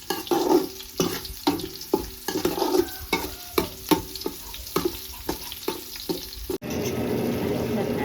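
Frying in hot oil with repeated scraping strokes of a spoon stirring the pan, rhythmic knocks over a sizzle that turns into a steady hiss at the end.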